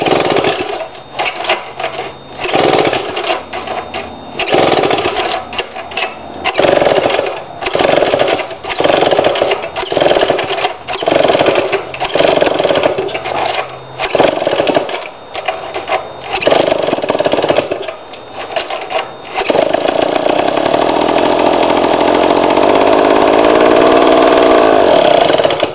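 An old Pioneer IEL HC chainsaw being started: a loud, close, ragged engine sputter with repeated bursts and pauses, settling into a steady running drone toward the end.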